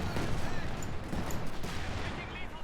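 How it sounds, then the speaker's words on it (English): Rocket barrage artillery in Company of Heroes 2 rolls out as a dense, continuous rumble of explosions and gunfire, loud and overlapping, with a commentator's voice running over it. "Rocket Barrage is going to come out."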